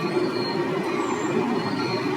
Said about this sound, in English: Train is coming now.